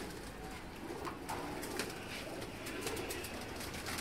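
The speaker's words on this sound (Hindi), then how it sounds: "उस साइड में सारे मेल्स पिजियंस हैं" Male racing pigeons coo steadily inside a loft, a soft continuous murmur of several birds close by, with faint flutters and movement throughout and no talking.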